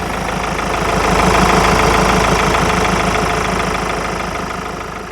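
A 2020 Ford S-Max Titanium engine idles steadily nearby, a continuous low rumble with a faint knocking texture that swells slightly then eases.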